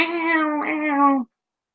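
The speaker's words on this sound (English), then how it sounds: "that big black cat that comes knocking round" A big black cat gives a single drawn-out meow lasting just over a second, close and clear, with a slight wavering midway before it cuts off into silence.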